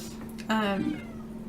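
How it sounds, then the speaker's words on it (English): A single clear cat meow, close and fairly loud, rising then falling, surrounded by a quiet background hum. "that's my cat meowing at me."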